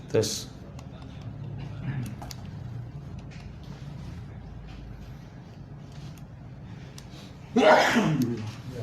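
A single sharp sneeze bursts out near the end, loud and close, after a stretch of faint room noise with soft clicks.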